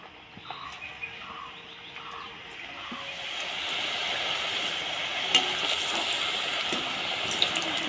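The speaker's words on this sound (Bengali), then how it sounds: "এখন আমি ভেজে নিব। এই এক এক করে আমি তেলে ছেড়ে দেব।" Semolina and boiled potato snacks dropped one by one into hot oil in a karahi over a clay stove, a soft bubbling sizzle that swells and grows steadier, with a few faint clicks and distant bird calls.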